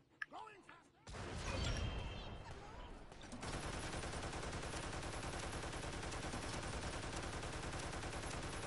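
Turret fire in a toy soldier war video game rattles out as dense, continuous bursts of gunfire, loud and sustained through most of the stretch, with brief voices at the start.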